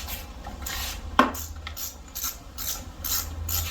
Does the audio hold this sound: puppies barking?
no